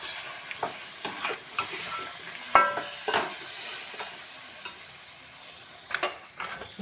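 Pork stirred in a frying pan, mixed with pressure-cooked pork for a pork roast: steady sizzling hiss with repeated scraping stirs of a spoon against the pan, close and moderately loud, no talking.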